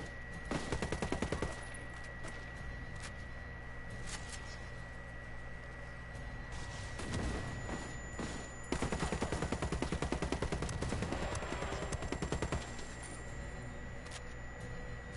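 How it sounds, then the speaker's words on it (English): Rapid automatic gunfire from a 10-round auto sniper rifle in a predator-hunting video game, loud, dense bursts of shots nearly continuous across the clip with brief lulls, firing alone without talk. "Auto 10 round sniper rifle."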